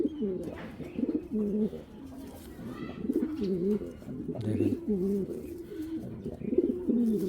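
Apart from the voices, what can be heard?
racing pigeon cock cooing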